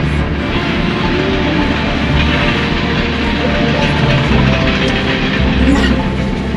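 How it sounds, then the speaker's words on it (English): A train rumbles steadily past at very close range, about 14 feet away, a constant heavy roar with faint rattling throughout and no clear voices. "It's really noisy here with all the trains."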